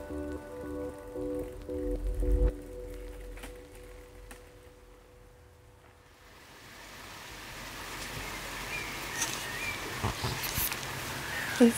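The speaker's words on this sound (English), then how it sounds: "And today it's torrentially raining." Torrential rain, first under a low engine-like hum and a bump, then growing into a dense, hissing downpour that becomes louder and fuller toward the end, with scattered sharper drips.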